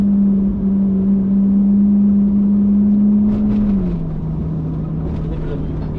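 A car engine drones at a steady, fairly loud pitch, then settles lower after a few seconds as though changing gear, with a voice talking over it throughout.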